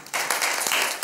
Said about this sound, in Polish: Ja sądzę, że zasługuje na brawa Judytka.